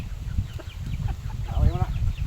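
Chickens clucking on a farm, several short close clucks and a rising cackle over rustling ground noise outdoors.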